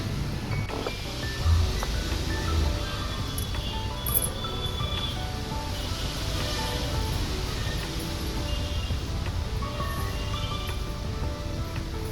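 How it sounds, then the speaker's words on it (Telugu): Strong wind roars steadily with broadband noise and rustling of swaying trees, loud and unbroken throughout, in Kurnool, India, at about five in the evening before rain. "గాలి చూసినారా ఎట్లా లేసిందో"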